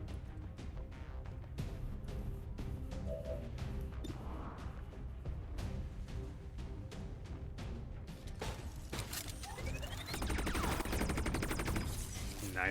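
Cannon and rocket launcher fire in a Warhammer 40k video game: rapid rhythmic gunfire cracks repeat steadily, then a heavier, louder volley of shots and impacts builds toward the end, with no voices.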